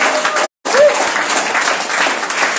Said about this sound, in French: acclamez-les pendant qu'ils viennent